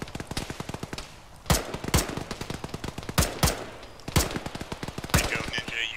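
Gunfire crackles through an Arma infantry battle in a ShackTac session, sharp shots repeating in rapid bursts with several louder, closer reports standing out over the steady rattle.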